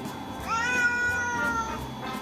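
A cat meows once in a drawn-out, rising and falling call lasting about a second, close and clear over a faint background hum.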